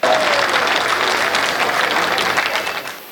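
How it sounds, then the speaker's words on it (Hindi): Loud, dense applause from an audience at a Hindi kavi sammelan poetry recital, sustained for a few seconds before tapering off at the end. "एक बार मेरे इस कथन पर आप जोरदार तालियां बजाएं"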